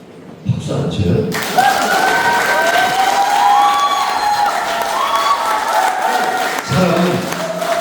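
A political party members' meeting audience breaks into loud, sustained applause and cheering that fills the room for several seconds, with voices mixed into the crowd noise.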